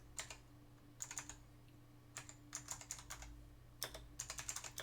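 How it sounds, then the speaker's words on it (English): Typing on a loud, clacky computer keyboard, with quick bursts of keystrokes broken by short pauses and set against a faint steady hum. "I like that it's noisy so you can hear me typing on it."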